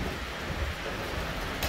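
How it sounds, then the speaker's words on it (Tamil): Steady rain falls outdoors over a garden of germinating jackfruit seedlings, a dense continuous patter and hiss with no voices. "அப்படியே மழை பெய்யுது"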